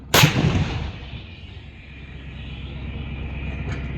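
An Indian Army artillery gun fires on a range at a firepower display, a sharp loud blast followed by a long rumbling decay and echo, with a fainter report near the end.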